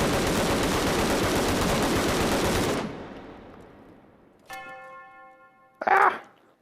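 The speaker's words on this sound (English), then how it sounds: "I'm going to shoot out the whole magazine" A sustained, dense burst of automatic fire from an AKM rifle emptying its whole magazine in a VR shooting game, loud and continuous for a few seconds before cutting off, followed by a metallic ring and a brief clatter.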